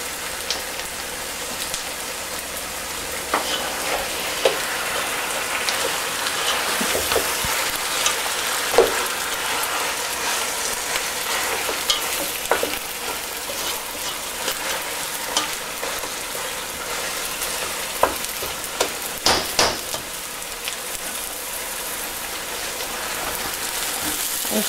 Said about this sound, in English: Fry the onions and the dried red chilies with the ghee